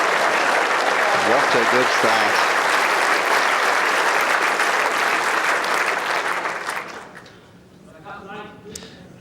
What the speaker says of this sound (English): Clapping the opposition.